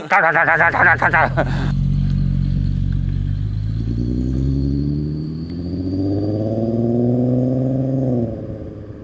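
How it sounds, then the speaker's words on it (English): A VW R32 with a bad-sounding transmission: a brief rapid clatter gives way to a loud, close engine drone that rises and falls in pitch with a whining, strained tone. "so the transmission does not sound good"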